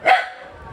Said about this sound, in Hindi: बाहर के कुत्ते भौंक रहे हैं गाइस